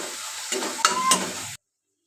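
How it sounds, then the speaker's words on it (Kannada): Onions, green chillies and leafy greens with turmeric sizzle softly in a pan, broken by a couple of quick spoon scrapes while being stirred, close by, before the sound stops abruptly. "ಇವಾಗ ಈರುಳ್ಳಿ ಎಲ್ಲ ಫ್ರೈ ಆಗಿ ಸೊಪ್ಪು ಸ್ವಲ್ಪ ಫ್ರೈ ಆದಮೇಲೆ ಬೇಳೆ ಹಾಕಿ ಖಾರ ಹಾಕಿದ್ದೀನಿ"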